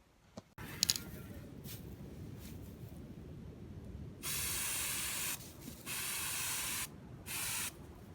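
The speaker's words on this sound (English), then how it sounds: "It is hard trying to spray paint lambs when you're on your own doing it" A lone farmer spray paints lambs, giving several short, loud bursts of aerosol hiss separated by pauses, each lasting about a second, over faint background rustling, with a sharp click near the start.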